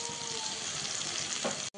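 Masala with ginger-garlic paste frying in oil for a whole fish curry, a steady soft sizzle while being stirred, close and fairly quiet, ending in a brief cutoff.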